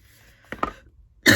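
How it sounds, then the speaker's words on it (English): A person with a horrible cough gives two quick, short throat-clearing coughs, then a louder, rougher burst at the end, close to the microphone in a quiet room. "I just have a horrible cough"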